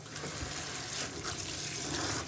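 Water from a tap runs steadily while a hair treatment is rinsed out, a constant close hiss and splash with no speech over it.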